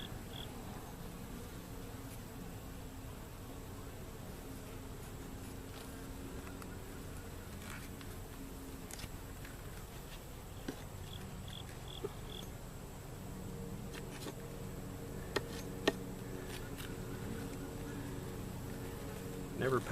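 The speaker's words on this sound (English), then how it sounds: "See, there's one bee stuck right there." Bees buzz around a hive frame in a small colony with a new laying queen, a faint steady drone under the quiet handling noises of a hive inspection.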